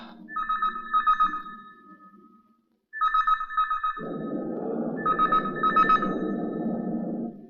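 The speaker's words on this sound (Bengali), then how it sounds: "দেখো তো কার ফোন এলো।" A telephone ringtone in a Bengali film scene trills in repeated electronic bursts with a short pause, while a steady rushing noise joins partway through.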